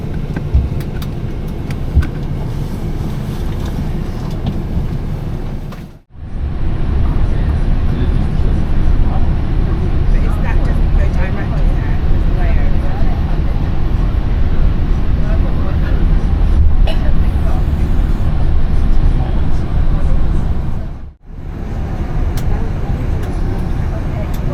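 Steady rumbling road noise inside a coach bus leaving Heathrow airport, a continuous engine and tyre drone lasting throughout with two brief dropouts, loud and close, with faint chatter mixed in.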